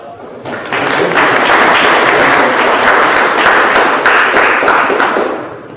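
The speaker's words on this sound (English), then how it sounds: "So please, let's give Kevin a round of applause." An audience at an inaugural industry conference bursts into applause, loud dense clapping that swells within the first second, holds steady, then begins to fade.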